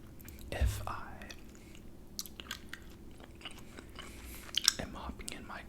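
Close, wet chewing of gum with soft smacks and clicks, steady and intimate, under a quiet whispering voice.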